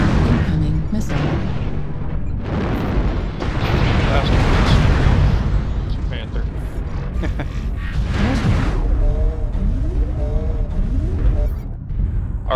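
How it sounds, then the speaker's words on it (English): An incoming missile strike in a video game lands with heavy, rumbling explosions, loud and close, with booming blasts rolling through continuous noise. "Incoming missile."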